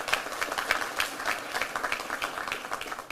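A crowd applauds steadily for the district attorney at a police press conference in DeKalb County, with dense, continuous clapping that holds at an even level throughout.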